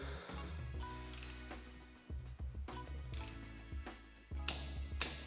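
A torque wrench tightens a part at the front of a bicycle, with faint mechanical clicks and ratcheting spaced irregularly over a low background hum.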